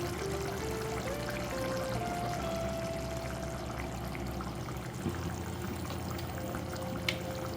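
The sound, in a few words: pouring cream into paneer curry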